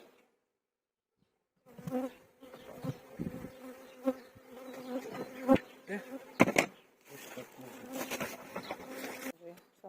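Honeybees buzz around an open hive during queen marking, a close, droning hum that starts after a short silence and swells with bursts of handling clatter and rustling.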